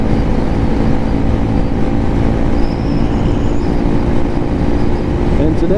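A Lifan KPM 200 motorcycle on an early morning ride gives a steady, loud engine drone with wind rush throughout, heard from on the bike.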